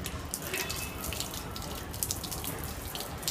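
Water pours and splashes steadily from a mini brushless DC pump, model JT160 rated 5-12 VDC, like a running tap into a sink, close and continuous for a few seconds with no voices.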